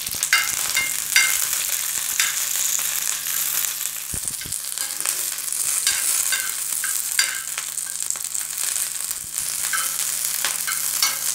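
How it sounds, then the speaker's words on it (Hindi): Green chillies sizzle and crackle in hot oil while being stirred, a loud continuous frying hiss with scattered pops and scraping movements throughout. "अब हम इस पर हरी मिर्च डालेंगे और इसे हिला लेंगे।"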